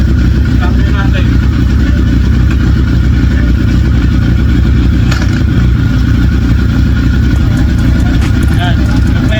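Engine of an old project motorcycle running loud and close while being ridden through gear changes, with a continuous rough drone and brief clunks, and someone talking over it.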